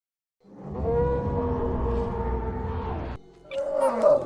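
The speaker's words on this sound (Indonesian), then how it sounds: "Tiba-tiba mendengar suara raungan yang sangat besar." A loud, deep, sustained roar from a dinosaur in an animated film rises and holds for a few seconds, then cuts to a second rougher, higher roaring call.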